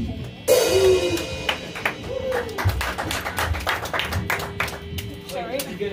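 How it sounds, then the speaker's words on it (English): A few people clap sparsely and unevenly, up close, while voices talk over the claps. "You get applauded for introducing the band."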